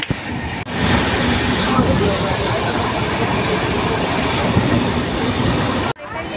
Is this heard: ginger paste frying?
no